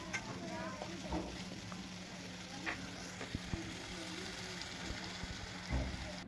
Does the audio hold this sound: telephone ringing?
no